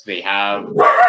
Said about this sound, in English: That's my dog going crazy.